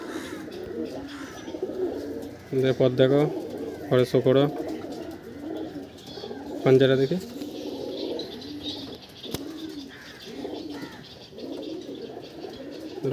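Saharanpuri pigeons in a loft give a few repeated throaty coos in short bursts, close by, while someone talks over them for most of the stretch.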